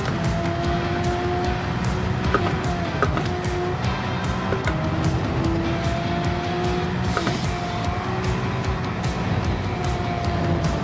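Porsche Cup race car engine in a racing video game, droning steadily throughout with rising and falling revs, gear-change dips and occasional tire squeal, loud and continuous with no talking.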